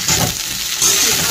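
Food, likely chickpeas, frying in a pan, giving a loud close crackling sizzle with a brief stirring burst partway through and no speech.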